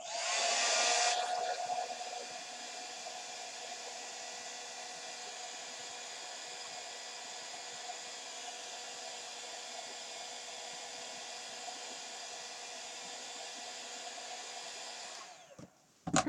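An embossing heat tool blows steadily over a stamped watercolor background to dry it, a loud, even whooshing hum that runs without a break for about fifteen seconds and then cuts off.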